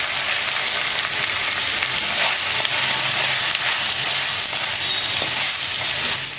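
Boiled mutton coated in salt, chilli and masala fries hard in a pan, a loud dense continuous sizzle with faint stirring scrapes underneath, no voices.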